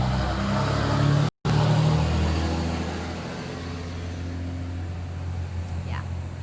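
Landscapers' trucks pull away in a loud, steady low rumble of engines that slowly eases off as they leave, with talk underneath.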